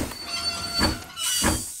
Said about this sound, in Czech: Vlak objel velký kruh.